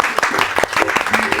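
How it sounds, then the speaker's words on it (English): A group of BLS training participants claps in a brief burst of applause indoors, dense irregular hand claps close by, with faint talk mixed in. "so let's clap for them"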